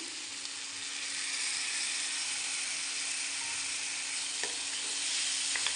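Bhindi masala in a pan with a yogurt mixture and chilies added, sizzling loudly and steadily up close, with a few sharp ticks and stirring scrapes and no talking.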